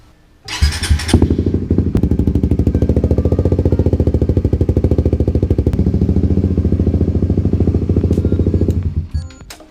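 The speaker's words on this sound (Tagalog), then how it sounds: "mapaandar niyo muna yung makina" A second-hand Suzuki GSX 150 motorcycle engine fires up with a loud burst, then runs at a steady, rapid, rhythmic idle close by for about eight seconds before cutting off, with no talking.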